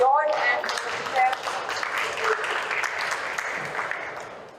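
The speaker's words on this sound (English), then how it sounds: "So let's applause for George and Mr. Chair." An audience at a Middle East vegetarian congress applauds, a dense wash of clapping that swells at first and slowly thins out, with a voice speaking over it.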